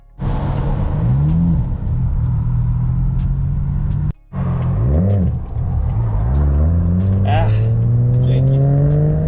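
A BMW 335i with the N54 engine and a twin-disc clutch revs and shifts roughly: two bursts of rising engine note broken by abrupt cuts between gears, with a voice talking over it.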